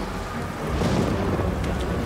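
Heavy rain with rumbling thunder in the Star Wars Jedi: Fallen Order video game, a steady dense downpour hiss under a low thunder roll that swells midway, heard alone.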